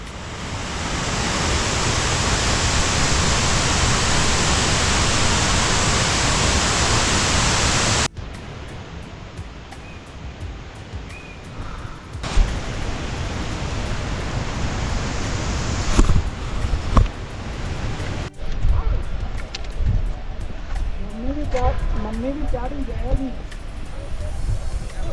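A waterfall roars as steady broadband rushing water beside the stairway trail to Hemkund Sahib in Uttarakhand, loud and continuous at first, then dropping to a fainter, more distant wash with scattered sounds and some talking.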